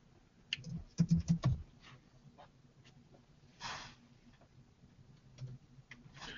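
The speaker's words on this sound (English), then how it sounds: "Give me a 2 if you can see this in the corner what I'm typing here." Keys on a computer keyboard clatter in a quick burst of close clicks, followed by scattered single taps and a short second flurry, fairly quiet.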